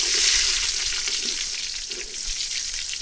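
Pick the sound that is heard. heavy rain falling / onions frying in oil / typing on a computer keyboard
onions frying in oil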